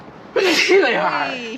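A person sneezes once loudly and close by, followed by a trailing voiced exhale, with a brief spoken word just before it.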